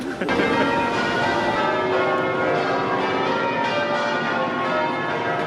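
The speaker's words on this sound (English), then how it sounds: "we've got the church behind us that's been ding-donging its bells for about the last 15 minutes" Church bells peal continuously outdoors in London, bright overlapping tones ringing out loudly and steadily behind faint background bustle.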